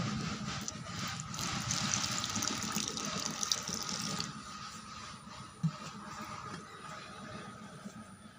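Water is poured into a mixture of rice flour, salt and turmeric for banana-stem fritter batter, a steady close trickle and splash that lessens midway, with a small clink near the end.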